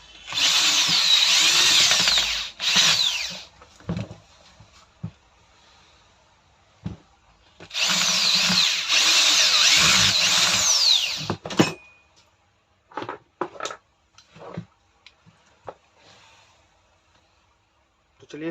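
Power tool drill run in two sustained bursts to tighten the screws on a 2.20 rotary hammer under repair, each whirring for several seconds, followed by scattered clicks and handling knocks.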